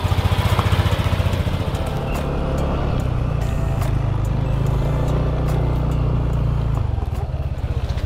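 A Yamaha NMAX scooter rides along rough Nusa Penida roads, its engine a steady close drone with rising and falling pitch and continuous wind and road rumble.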